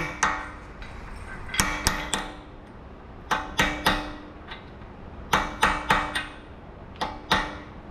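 A round punch is hammered repeatedly to stake the CV axle nut on a Honda Civic, sharp metallic strikes in small clusters of two or three with short ringing decays, close and clear.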